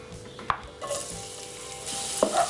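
Chopped garlic hits hot oil left over from frying chicken and sizzles loudly and steadily, with a few sharp metallic clinks of a spoon against the pan.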